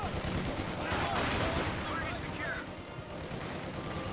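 A decoy artillery barrage in Company of Heroes 2 rumbles with continuous booming and gunfire across a battlefield, loud and dense throughout, with a voice talking over the din.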